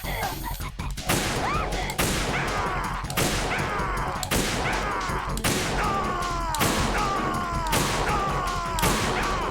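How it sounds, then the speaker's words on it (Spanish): Gunfire from Snake in the Metal Gear Solid 2 video game, a series of loud, evenly spaced shots with ringing tails over a dense, continuous game soundscape. "Literalmente Snake le ha pegado 2 tiros a un dron"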